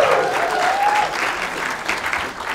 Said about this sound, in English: Can we give a round of applause to Bruce, please?